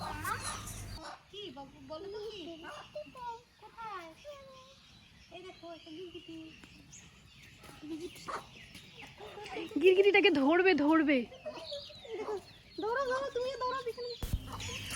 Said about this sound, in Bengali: এখানে মুরগিগুলো কিন্তু কি সুন্দর দেখতে আর এখানে ছোট ছোট মুরগির বাচ্চাও আছে